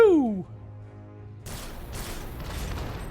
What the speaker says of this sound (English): Great explosions.